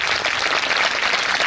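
An audience at a girls' school annual gathering claps loudly and continuously, a thick wash of many hands held at an even level for the whole moment.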